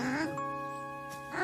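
An animated cartoon cat in a German-dubbed children's show gives a short meow, followed by a sustained tonal stretch and a second brief cry at the end.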